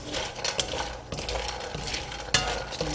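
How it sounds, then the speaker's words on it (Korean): Sliced ginger being dry-stirred in a pan on an induction cooktop set to level 5, giving a steady rustling scrape with brief clinks of a utensil against the pan, close and moderately loud, with no voices. "제가 지금 인덕션 5단에다 갖다 놓고 볶는데"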